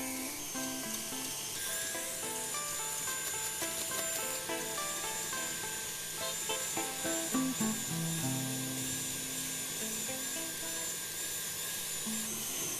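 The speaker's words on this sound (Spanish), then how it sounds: "Vamos a batir a velocidad baja al principio, colocándole un poquitito de azúcar." An electric mixer whirs steadily at low speed while beating egg whites with a little sugar, its motor whine holding a tonal hum that shifts slightly in pitch, fairly faint and without talk.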